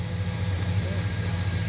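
A tractor engine runs steadily at idle outdoors, a low, continuous rumble with even loudness throughout.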